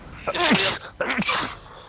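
Two loud, close sneezes in quick succession, each a sharp burst that trails off, with no other sound around them.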